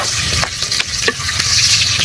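Garlic and onion sautéing in a large cooking pot for a native chicken tinola with eggs: steady sizzling and frying, close by, with several short scraping stirs, no voices.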